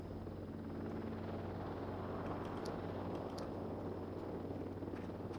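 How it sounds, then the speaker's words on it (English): A drone in the video game Voices of the Void hovers just outside a window, a constant droning hum with rotor buzz, steady and fairly close, with no talk. "there's a drone just hovering right outside my window the whole time"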